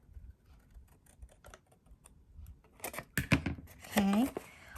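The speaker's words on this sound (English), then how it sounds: "you're going to cut that little triangle on this side" Scissors snip a small triangle out of a paper note card, several soft crisp cuts close up at first, then a person speaks over the last snips.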